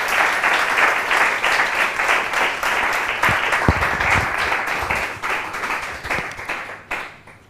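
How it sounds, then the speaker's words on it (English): An audience at a seminar applauds after a talk, with sustained, dense clapping that keeps up for several seconds before thinning out and fading at the end. "you deserve a round of applause."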